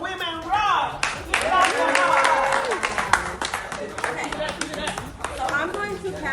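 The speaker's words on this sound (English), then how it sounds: "Hey, let's clap her up for that." Audience clapping for a breast cancer survivor guest speaker at a 5K walk-a-thon gathering: scattered, moderately loud applause mixed with cheers and overlapping voices.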